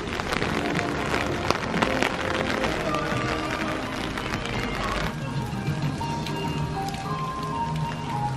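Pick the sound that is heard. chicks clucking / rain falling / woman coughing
rain falling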